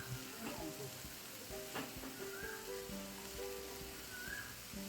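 Ginger-garlic paste fries in a pan for brinjal moju, giving a soft, steady sizzle with a few faint stirring scrapes, fairly quiet and close, and no words spoken.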